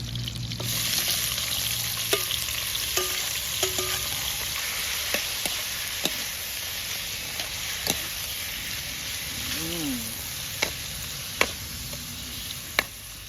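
Onion and pork offal frying in a pan for a Shan-style stir-fry with snow peas, a steady close sizzle broken by scattered sharp clicks and taps from stirring, with a brief murmur of voice partway through.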